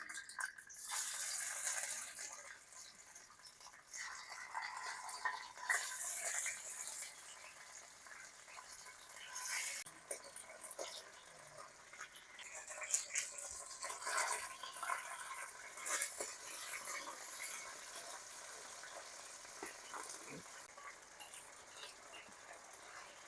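Marinated beef browns in a pan over medium-high heat for beef and broccoli, sizzling and crackling at a low level in uneven bursts with a few clattering stirs and no talk.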